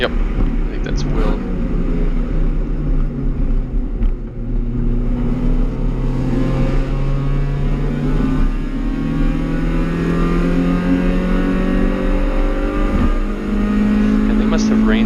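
Race cars on a wet track drone steadily at full throttle, their pitch rising gradually as they pass, with a constant loud roar throughout.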